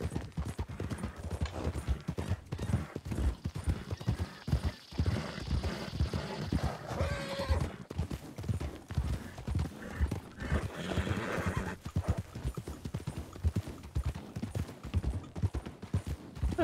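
Horse in the Red Dead RedM game galloping with steady clip-clop hoofbeats across the whole stretch, with loud whinnies and neighs breaking in now and then, close and continuous with no talk.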